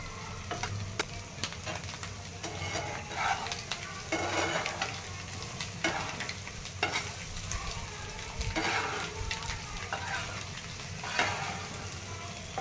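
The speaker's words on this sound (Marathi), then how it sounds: "आता ही छान तेल आज मिठात छान परतलेलं आहे" Boiled eggs sautéing in oil with salt in a pan for an egg curry, a steady sizzle and fry crackle with repeated scraping stirs throughout, close and moderately loud, with no talking.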